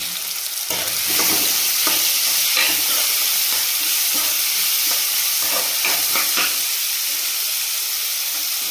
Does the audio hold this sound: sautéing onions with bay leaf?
yes